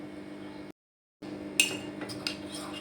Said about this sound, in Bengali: এবার এই গুঁড়ো দুধটা আমি ভালো করে একটু গুলে নিচ্ছি চামচে করে